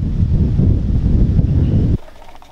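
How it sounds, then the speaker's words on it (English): Strong northwest wind of a South Dakota blizzard under a high wind warning, roaring and buffeting the microphone as a loud, low, continuous rumble that drops away sharply near the end. "the wind's blowing from the northwest"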